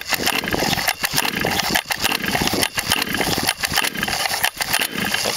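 A carbureted small engine fires with the choke on and runs roughly, its loud, dense sputtering pulsing with frequent brief dips in rhythm.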